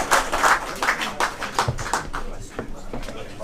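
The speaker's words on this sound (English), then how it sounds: "Give them a nice round of applause," An AGM audience at a Blackpool football club claps for guests called to the stage, with a burst of scattered hand clapping that thins out over a few seconds, and someone talking over it.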